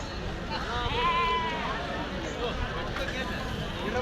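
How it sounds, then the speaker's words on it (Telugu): Sheep and lambs bleat amid a busy crowd at the Kadiri sheep and goat market, wavering calls rising over continuous babble of voices and general market noise. "పిల్లలతో సహా గొర్రెలు"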